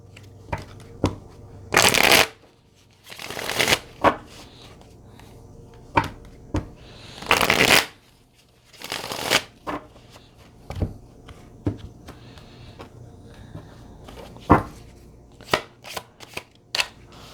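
Riffle shuffles of an oracle card deck, several brisk crackling bursts spaced apart with soft taps and handling clicks between them, close and fairly quiet, with no talking.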